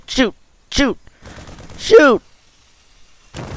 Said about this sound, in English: I'm going to chase him down with my Marines. And shoot.